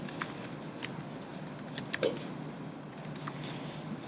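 Code is typed on a computer keyboard in a quiet room, with irregular bursts of light key clicks and one slightly louder tap partway through.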